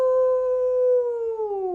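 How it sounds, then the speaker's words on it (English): A single long wolf howl, loud and close, holding a steady tone that slowly sinks in pitch toward the end, with no other sounds around it. "I'm hearing a wolf howling."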